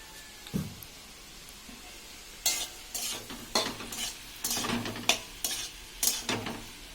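A mother stirs fish with ash gourd in a frying pan, with a steady sizzle underneath and repeated scraping, clattering stirs of a utensil against the pan, fairly close and loud.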